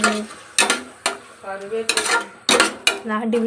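A spoon stirring chicken biryani with yogurt in a metal pot, sharp clanking scrapes repeating in an uneven rhythm, close and loud.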